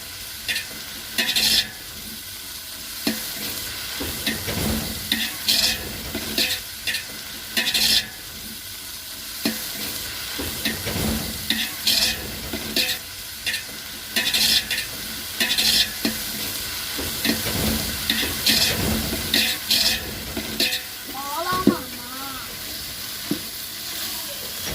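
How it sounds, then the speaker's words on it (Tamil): Mint and coriander leaves being stirred and sautéed in hot oil for a village-style mutton biryani, a steady close sizzle broken by repeated scraping strokes of a spoon against the pan. "அதையும் போட்டு நல்லா வதக்கணும்."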